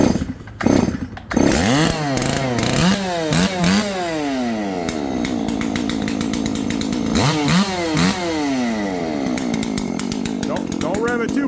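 A chainsaw engine starts and runs up close, revving repeatedly in rising and falling sweeps between stretches of idle, loud and continuous under occasional talk.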